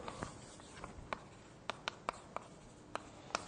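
Chalk writes on a lecture board in a quiet room, tapping and scratching in a series of short, sharp, irregular strokes, each one faint but crisp.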